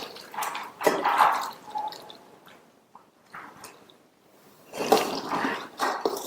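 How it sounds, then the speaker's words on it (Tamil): Hot water poured over cut cauliflower pieces seasoned with salt and turmeric, a close splashing, trickling pour in a couple of bursts with quieter dripping between. "நல்ல சூடான தண்ணியை சேர்த்துக்கலாம்"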